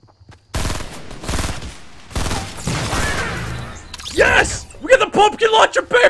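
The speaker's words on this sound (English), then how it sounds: "Look, it's a pumpkin launcher! It shoots pumpkins!" Pumpkin launcher weapon firing repeatedly in Fortnite Battle Royale, loud bursts of rapid shots in clusters, followed by an excited voice talking over the game sounds.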